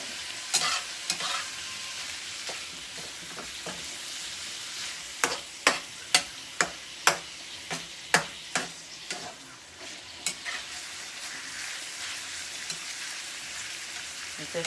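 Bacon frying in a pan for collard greens and cabbage is stirred steadily, with a constant close sizzle broken by sharp scraping clacks of the utensil against the pan, clustered in the middle and tapering off.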